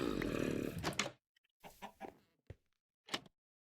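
A Minecraft chicken gives a few short, soft clucks spaced apart, after a louder burst of background game noise at the start.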